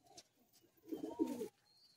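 Pigeons of the gola line, high-flying Madrasi birds kept in a Kolkata loft, give a single low, throaty cooing burst of about half a second, fairly close and alone against quiet surroundings.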